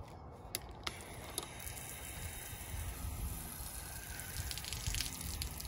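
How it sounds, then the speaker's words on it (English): Hot water running from the faucet of a Travato RV with a recirculation system, a few mechanical clicks as the tap opens, then a steady stream that grows slightly louder. "Let's turn the water on, see what my subjective assessment is."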